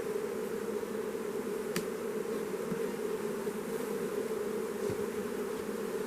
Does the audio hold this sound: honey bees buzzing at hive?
yes